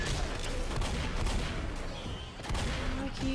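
Continuous gunfire in Left 4 Dead crackles in rapid, overlapping bursts, loud and close, forming a dense barrage that briefly dips before another cluster of shots, with no voices heard.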